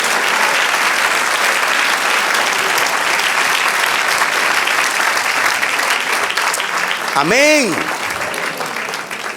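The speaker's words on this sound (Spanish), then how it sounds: "Dale un aplauso al Señor." A church congregation applauds steadily and loudly throughout, a dense wash of clapping with a voice saying a short word near the end.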